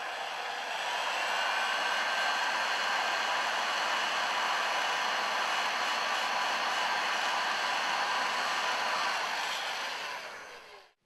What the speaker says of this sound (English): slide the heat shrink to the end of the terminal and warm it with the gun